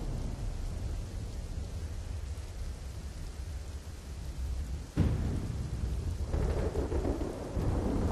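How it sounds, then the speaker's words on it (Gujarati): Heavy rain in Bhavnagar hisses steadily while thunder rumbles underneath, the storm swelling louder midway with a sharp crack and continuing downpour. "ભાવનગરમાં ધોધમાર વરસાદ વરસ્યો છે"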